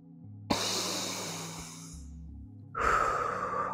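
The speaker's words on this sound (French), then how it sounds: "c'est grande inspire, grande expire" A person takes a deep inhale and then a long exhale during a stomach vacuum exercise. Two close, airy breaths are heard, the second starting near the end, with a faint low hum underneath.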